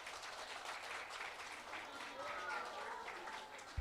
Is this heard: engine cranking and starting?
no